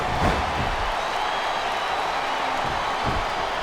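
Arena crowd noise in the wrestling video game WWE SmackDown vs RAW 2007: a steady, dense roar of cheering from a capacity crowd, continuous and fairly loud throughout.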